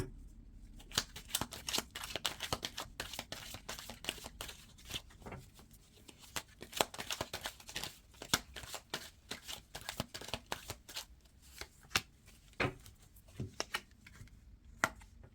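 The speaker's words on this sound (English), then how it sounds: "I'll pull a card for the Five of Pentacles." A tarot deck is shuffled and cards are pulled, giving a steady run of crisp, close riffling flicks and soft card slaps with no voices.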